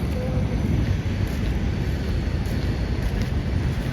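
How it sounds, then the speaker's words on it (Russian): Broad, steady roar like a distant airplane passing, blended with wind noise and constant outdoor hiss. "Он говорит, что это самолет звук."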